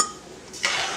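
A spoon stirs rice and water in a cooking pot, giving a soft scraping swish followed by a brighter clink and watery slosh against the pot, close and with no talking.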